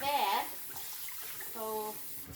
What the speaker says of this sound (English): This is the second rinse after the vinegar.